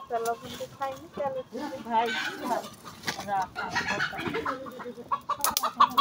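Chickens cluck and squawk nearby in short bursts, mixed with a person talking over them.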